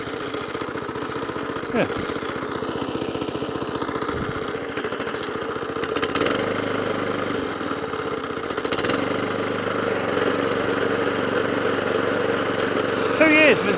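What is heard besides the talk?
Kawasaki FJ100 engine on Atco Suffolk Punch mower idling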